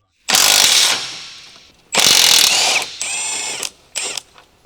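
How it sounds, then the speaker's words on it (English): Electric impact wrench removing a lower control arm bolt on a Chevrolet Cruze, several loud, close ratcheting bursts of hammering rattle, the first long, then shorter bursts trailing off with brief pauses. "Using the electric impact wrench, remove the bolt."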